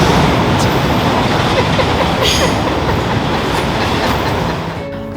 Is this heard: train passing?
yes